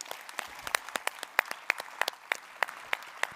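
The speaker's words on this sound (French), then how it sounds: "donc je voudrais qu'on les applaudisse" An indoor audience claps in applause at a public event, a steady patter of many hands at moderate distance with some sharper individual claps standing out.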